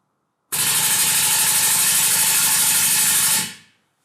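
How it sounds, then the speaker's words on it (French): An electronically controlled solenoid vortex cannon fires rapid air bursts at about twelve per second, a loud, dense buzzing rattle that starts abruptly, holds steady for about three seconds, then cuts off and fades. "C'est le premier test avec environ 12 rafales d'air par seconde."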